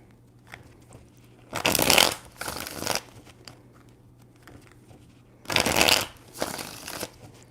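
Tarot cards are shuffled in two brisk riffling bursts a few seconds apart, close and crisp, with quiet handling rustles between them and no talking.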